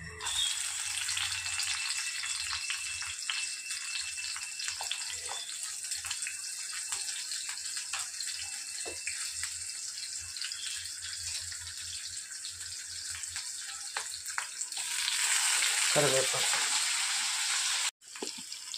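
Onions and curry leaves fry in hot oil with a steady, close sizzling hiss that runs throughout and swells louder near the end, with a brief break just before it closes.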